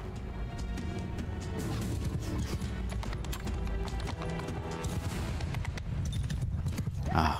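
Rapid hoofbeats clatter over a busy Mount & Blade II: Bannerlord battle soundscape, with scattered impacts and a burst of noise near the end.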